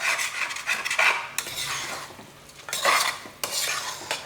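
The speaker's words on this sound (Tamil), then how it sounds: "கத்திரிக்காயெல்லாம் உடையாமல் அப்படியே லேசாக அப்படி பரட்டி விடுங்க." Brinjal pieces being gently turned in a pan for brinjal rice, with bursts of metal spoon scraping and clinking against the pan over a light sizzle, close and with no talk.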